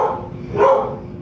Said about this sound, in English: I'm gonna wait until she's done barking.